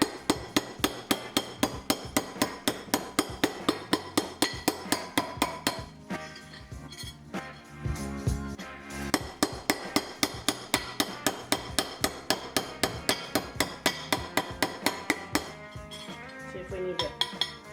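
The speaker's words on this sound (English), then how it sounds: "We're going to go ahead and hammer that thing flat with the ball peen end." Rapid, regular metallic ring of a ball peen hammer flattening copper pipe close by, a long steady series of sharp strikes with a brief pause midway before resuming.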